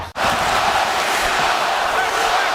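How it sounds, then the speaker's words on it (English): Hockey arena crowd roaring as the home side ties the game after pulling the goalie, a loud, dense, continuous thundering wall of cheering with no break. "Crowd thundering."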